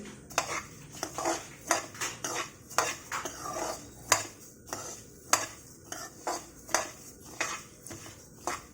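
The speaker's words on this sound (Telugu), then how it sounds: "ఇందులో సాజీర పట్ట మిరియాలు లవంగాలను వేసుకొని ఒకసారి కలుపుకోవాలి" A spoon stirs roasted coriander seeds with caraway, cinnamon, black pepper and cloves in a dry pan, giving repeated sharp scrapes and clinks roughly every half second, close and clear with no speech.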